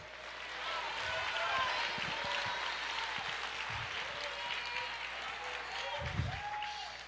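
A church congregation applauding the Lord, a steady wash of clapping from many people that holds through the whole stretch, with a few low thumps and some voices mixed in.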